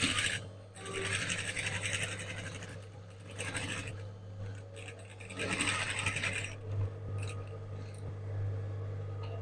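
Sewing machine tacking suit fabric to the upper part of a cowl neckline suit, running in bursts of mechanical whirring with pauses, steady low motor hum underneath throughout, moderately close and fairly quiet.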